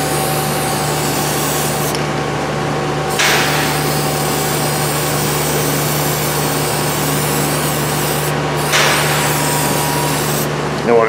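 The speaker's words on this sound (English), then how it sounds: "spray the other side of the gasket and stick her up there" Aerosol adhesive sprayed onto a differential gasket on a Cadillac Escalade (Chevy Tahoe): a loud, steady hiss running for several seconds, broken by two brief pauses, with no talking.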